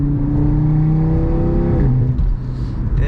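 A loud Audi RS3 8V with aftermarket exhaust accelerates hard from inside the car, its engine note climbing steadily through the rev range before a gear change drops the pitch and it pulls again.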